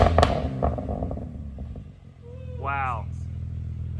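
A BMW G87 M2 fitted with a Valvetronic catback exhaust, exhaust valves open, idles with a steady low rumble, with a brief higher rising tone partway through and voices heard over the engine.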